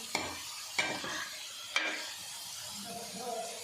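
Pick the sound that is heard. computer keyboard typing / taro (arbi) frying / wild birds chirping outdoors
taro (arbi) frying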